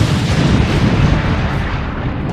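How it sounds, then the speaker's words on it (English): Explosion of gunpowder barrels as a sound effect: a loud, dense, rumbling blast that roars continuously with heavy low boom and crackle, fading slightly toward the end. "I heard a mighty explosion"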